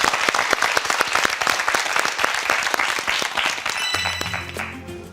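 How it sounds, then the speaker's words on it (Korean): A studio audience on a quiz show breaks into dense, sustained applause that holds steady, then fades as a musical sting rises near the end. "박수를 청해 보겠습니다"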